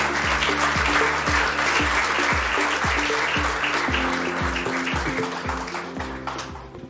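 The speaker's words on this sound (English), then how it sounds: "Please welcome on stage with generous applause Ms. Natalia Bayona, Executive Director of UN" Steady applause from a conference audience at a tourism panel, sustained and fairly loud for several seconds while music with a regular beat plays underneath, fading slightly toward the end.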